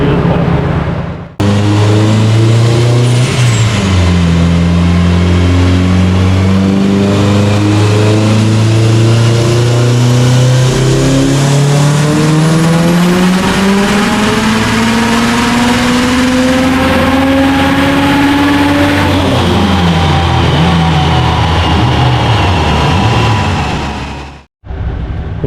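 A heavily modified turbocharged Subaru Forester, boost targeted at 32 psi, revs hard on a dyno, its loud engine note climbing steadily for over twenty seconds before cutting off abruptly.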